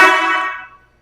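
Aftermarket Maruko horn fitted to a 2026 Ford Everest Trend gives one loud, close, bright blast with rich harmonics that decays over about three-quarters of a second into silence.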